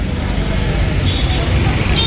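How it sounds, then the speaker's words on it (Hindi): City road traffic in Pune rumbles continuously at close range, a dense wash of engines and passing vehicles with a faint horn-like tone near the end, while a voice is faintly present. "ऐसे ही ट्रैफिक रहता है।"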